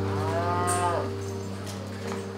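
A dairy cow in a shed moos once, long and loud, over a steady mechanical hum of farm equipment, with faint clanks in the background.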